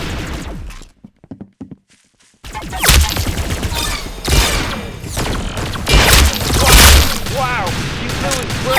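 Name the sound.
gunfire in a video game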